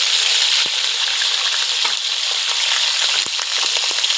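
Loud, steady sizzling of chicken deep-frying in hot oil, a dense crackling hiss with occasional pops and spatters.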